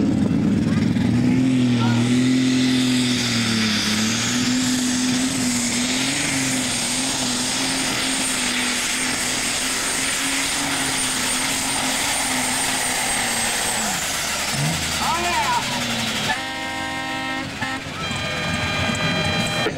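A modified 986 farm tractor roars at a night tractor pull, its engine holding a loud, sustained drone with a rising whine before dropping off, while an announcer talks over the event.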